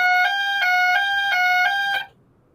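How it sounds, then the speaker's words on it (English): A Protec S400 intruder alarm panel sounder blares a loud, steady two-tone electronic warble with rhythmic pulses about every third of a second, then cuts off abruptly, leaving near silence. "Sounds like an intruder alarm."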